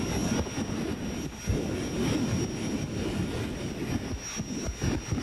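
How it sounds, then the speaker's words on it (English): A General Electric jet engine from an F-5 Freedom Fighter or T-38 Talon, fitted to a race vehicle on a track, gives a loud, continuous roaring whoosh with a high steady whine and rumbling pulses, and no talk. "This particular engine is made by General Electric, and it comes out of an F5 Freedom Fighter or a T-38 Talon"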